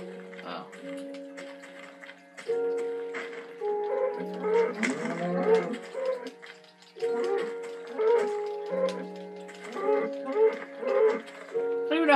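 A cow in the video game Minecraft moos repeatedly in low, drawn-out calls, mixed with a person talking over the game sounds.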